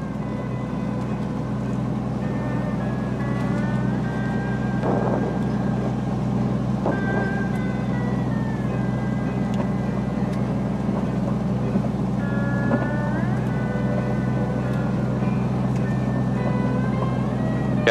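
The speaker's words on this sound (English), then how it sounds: "We've got permission to taxi to the runway, so that's what we're going to do." A small airplane's engine drones steadily and evenly while taxiing toward the runway on a volcano sightseeing flight, with faint intermittent voices over radio or intercom.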